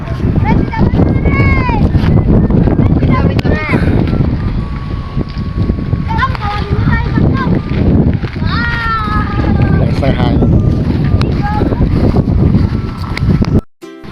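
Strong wind roars and buffets a nearby microphone throughout while flying a kite, with people talking and shouting over the gusts before it cuts off abruptly.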